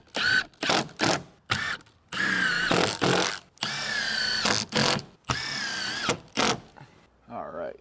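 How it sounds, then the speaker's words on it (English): Power drill driving screws into timber window frame pieces for a timber frame barn, several loud whirring bursts of varying length with pauses between, close by, with someone talking at times. "So these guys get screwed in first."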